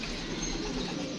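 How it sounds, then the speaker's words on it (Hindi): A pigeon coos softly, a brief low throaty call amid steady background noise. "हमने तो सिर्फ यहाँ ये पकड़ा कबूतर"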